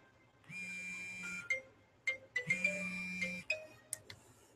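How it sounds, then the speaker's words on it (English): A newly set phone ringtone plays a bright, whistle-like melodic tune in two repeated phrases with short pauses and a few sharp accent notes, loud and close with no talking. "Oh, I got a new ringtone."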